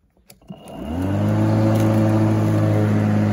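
A Sun Joe MJ401C battery-powered lawn mower starts up after a few clicks, its motor rising to a loud, steady hum with a rising whine, close by.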